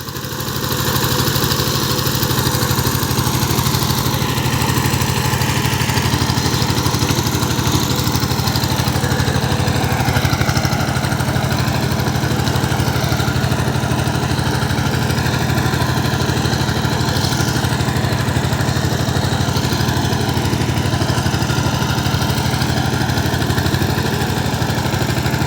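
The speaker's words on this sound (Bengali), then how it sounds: "সাইপিং 16 HP diesel engine, সাইপিং 18 blade power tiller দিয়ে দাবা জমি চাষ করা হচ্ছে" A 16 HP Sifang diesel power tiller with 18 blades ploughs a field, its engine droning steadily and loudly through the whole stretch with no talk, a constant mechanical hum.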